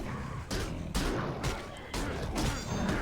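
Archers loose volleys at orcs during a battle in The Lord of the Rings: The Return of the King video game, a dense, continuous clatter of combat with sharp impacts surging at regular intervals.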